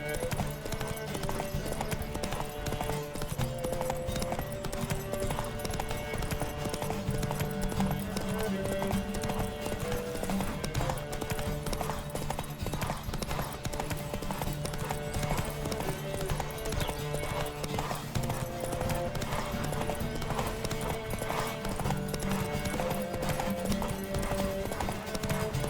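Horse galloping in The Witcher 3 with a steady, continuous clip-clop of hooves, close and loud, running under a constant bed of game music and ambience for the whole stretch.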